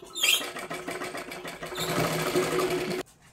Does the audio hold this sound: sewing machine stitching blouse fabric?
yes